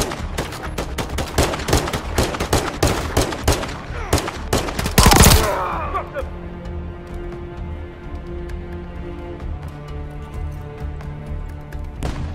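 Sniper and rifle fire in Call of Duty Modern Warfare 3 on Xbox Series S, with snipers shooting from a cliff and from behind a fallen tree. Rapid sharp shots crack loudly for about five seconds, one large blast follows, then quieter scattered pops over a low ambient hum.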